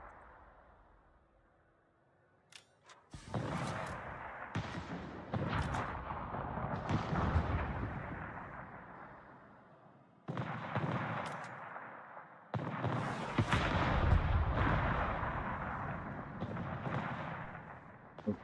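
A Smolensk cruiser fires broadside in World of Warships: a series of heavy, booming salvos, each a loud rumbling blast that rolls on and fades, with short pauses between the volleys.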